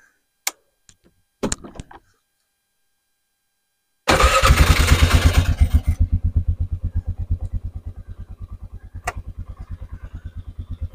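A Polaris vehicle sitting unused for about a week cranks briefly, then fires into a loud, close engine roar that settles into a steady, rhythmic idle, after a few faint clicks beforehand.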